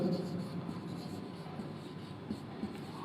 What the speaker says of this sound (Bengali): আমি লিখে দিচ্ছি